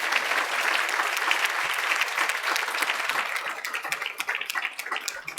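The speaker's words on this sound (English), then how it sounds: "can we just give a round of applause to Petra and the staff of this institution for everything you've done." Audience applause at an event marking a vaccine manufacturer's accreditation, full and steady at first, then thinning into scattered individual claps toward the end.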